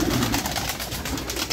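Several pigeons coo close by inside a house, overlapping throaty, rolling calls that pulse continuously in a short burst with no talking.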